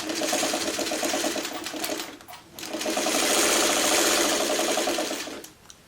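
Sewing machine stitching two quilt block pieces together, a rapid rhythmic needle clatter in two close bursts separated by a short pause.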